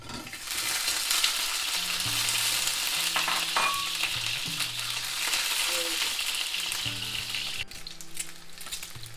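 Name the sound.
frying whole boiled eggs in oil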